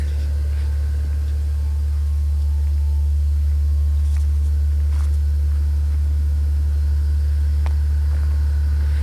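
A Peterbilt 359 truck engine runs at a steady, heavy idle with a deep hum throughout, accompanied by faint hissing and clicks as the trailer's air lines fill.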